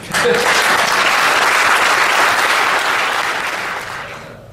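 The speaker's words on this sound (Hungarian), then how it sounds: "de azért egy nagyon nagy tapsot" Loud, dense applause from a crowd at an award ceremony for a science competition, sustained at full strength before tapering off near the end.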